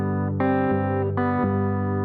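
Electric guitar playing the riff from a song, index finger kept planted on the low E before the open B; sustained, clean chord tones with a few plucked note changes, close and steady with no talking.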